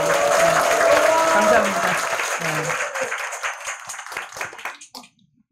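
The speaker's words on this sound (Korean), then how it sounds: "박수 한번 보내드릴게요" Audience applause at a political talk event, loud sustained clapping that tapers off and fades to near silence, with a voice speaking briefly during it.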